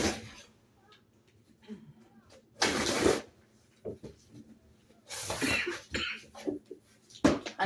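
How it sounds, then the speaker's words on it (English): A person coughing nearby in a quiet indoor space: a few sharp, harsh bursts, some doubled, separated by near silence. "I'm coughing because of the dry weather."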